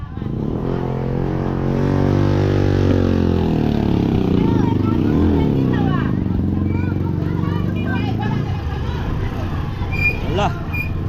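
Motorcycles rumble and rev loudly nearby at a fire scene in Baseco Block 9 Extension, with crowd babble and shouting voices over the steady engine noise.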